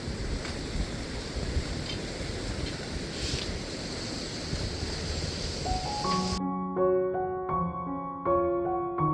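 Clear, low Rishiganga river water at Badrinath flows with a steady broadband rush for about six seconds before music abruptly takes over.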